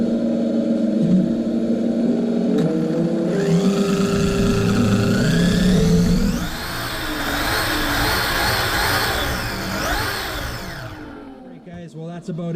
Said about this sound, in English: Very impressed with the engine sound system here from GT Power